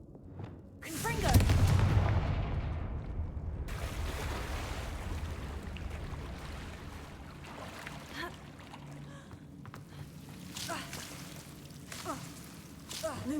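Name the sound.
Confringo explosive spell cast in Hogwarts Legacy video game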